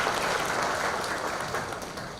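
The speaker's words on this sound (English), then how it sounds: "I would like you all to give a huge round of applause to all of our faculty members" Sustained applause from an audience at a medical college orientation and white coat ceremony, a dense, steady wash of many hands clapping for the full length with no break.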